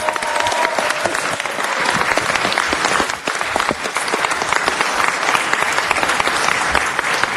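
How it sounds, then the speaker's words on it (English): Sustained applause and cheering from Bureau of Engineering staff at a city council meeting, a steady dense clatter of clapping with a few whoops, loud and continuous throughout. "As you can hear, those are the wonderful people from the Bureau of Engineering cheering in the back"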